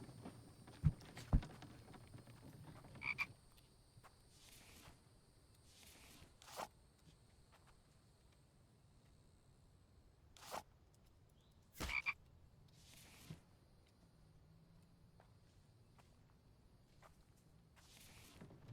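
Frogs croaking in the video game The Infected, sparse sharp croaks and clicks spaced irregularly over a quiet, low ambient background, with a few brighter bursts standing out.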